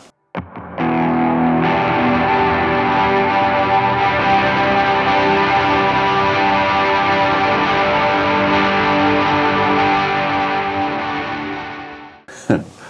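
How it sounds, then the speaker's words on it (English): Distorted electric guitar drenched in heavy reverb, sustained chords ringing loud and continuous for about eleven seconds before decaying into a washy tail; no voices. "Another thing that can make your tone too big is reverb"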